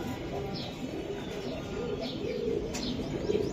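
Racing pigeons cooing in a loft, soft repeated low coos over a constant background hum with a few faint chirps.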